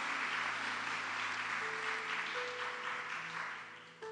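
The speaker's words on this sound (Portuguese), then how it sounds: "Vamos aplaudir ao Senhor por esse casal" A church congregation applauds in a dense, continuous wash of clapping that carries on for several seconds, with a faint sustained instrumental tone underneath.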